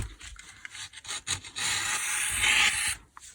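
Paper cutting through a collaged paper master board, a steady close rasping scrape that builds after a few short strokes and runs for over a second before stopping.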